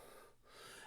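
Link gasping in the video game The Legend of Zelda: Ocarina of Time, a single short, breathy intake of surprise, close and faint on its own.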